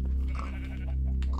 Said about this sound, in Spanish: Aquí hay ovejas.